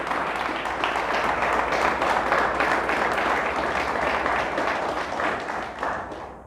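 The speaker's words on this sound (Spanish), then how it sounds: "¿Alguien le da un fuerte aplauso a nuestro Dios?" A church congregation gives a loud, sustained round of applause for God during a sermon. The dense clapping holds steady throughout, with faint crowd voices underneath.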